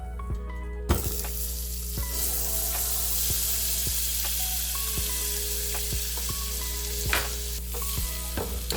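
Butter sizzling and melting in a pan at the start of homemade granola, a steady close crackle after a brief quiet opening, with occasional sharp clicks and utensil knocks over a low hum.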